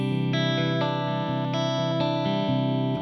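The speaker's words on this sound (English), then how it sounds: "I just got a Donner Prince Pulse pedal." A sustained, heavily effected guitar tone through a Donner Prince Pulse pedal with compression and EQ, rhythmic swells and a spring-reverb wash, steady and loud with no voices.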